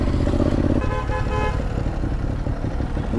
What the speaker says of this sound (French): Ne klaxonne pas